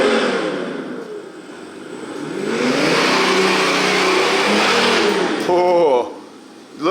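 An all-metal 13.5 lb Capo JK Max RC truck with air-ride suspension drives off, its electric motor whining and rising steadily before a sharp rev, then cutting out.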